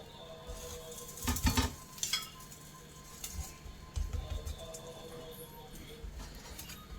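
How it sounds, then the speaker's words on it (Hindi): Aloo paratha cooks on a tawa with ghee, giving a low sizzle broken by clattering spatula and pan knocks, loudest in a cluster of sharp clinks early on. "अब हम इनको तवे पे आराम से सेकेंगे।"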